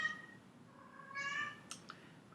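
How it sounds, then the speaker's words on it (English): Cats meowing indoors, a few short, faint calls rising briefly above a quiet background with no talking. "cats are being active."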